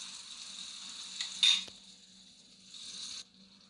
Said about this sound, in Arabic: هنبدأ نحط معلقة كبيرة من الصلصة وعصير طماطم